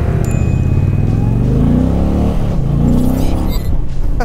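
An Indian Challenger Limited motorcycle engine runs loud and steady from the rider's seat, its low rumble rising and falling with throttle changes over a few seconds, with no talking.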